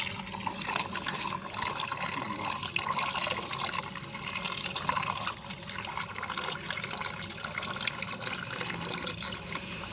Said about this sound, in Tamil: நல்லா அலசி எடுத்துக்கணும்.